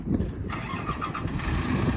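A 2006 GMC C8500 digger derrick truck with an Isuzu 7.8 liter turbo diesel cranks and fires right up, then settles into a loud, steady, rumbling idle close by.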